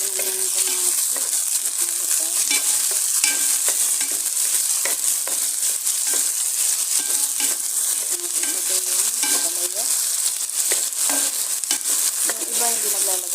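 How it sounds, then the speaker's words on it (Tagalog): Tomatoes sauté with garlic and onion in a pan for bitter melon, a steady bright sizzle with frequent clinks and scrapes of a spoon stirring throughout. "Bago matunog ang bawang at sibuyas. Ilagay ko na yung kamatis."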